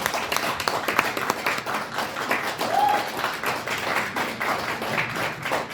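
An audience applauds two panelists at a Korean overseas-compatriot policy forum, with a steady patter of many hands clapping in a hall and a few faint voices underneath.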